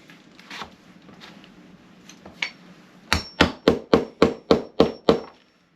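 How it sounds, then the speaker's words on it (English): A run of eight sharp, evenly spaced metallic pops as rivets are set one after another through a van's window cover panel, close and loud, after a few quieter handling clicks and scrapes. "I'm going to rivet. I'll put a bunch of rivets through here."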